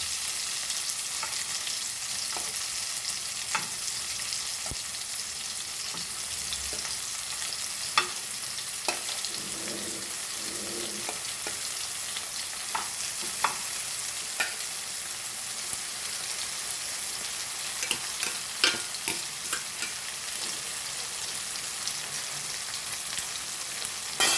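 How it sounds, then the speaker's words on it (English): Dried Bombay duck fish (bombil) fries in a pan in a Goan kitchen, a dense, steady sizzle and crackle with scattered sharper pops throughout, loud and close with no talking. "Fry it both the sides."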